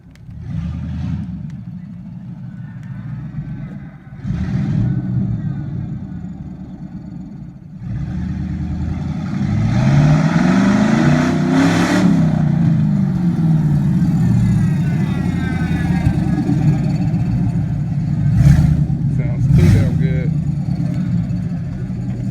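LS-swapped 5.3 V8 in a third-gen Trans Am with a 4L60E revving hard through its first burnout, a loud, rumbling engine climbing and holding high revs with a rough-sounding tensioner, while people talk and shout nearby.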